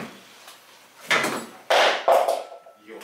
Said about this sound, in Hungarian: most kell leemelni az ajtót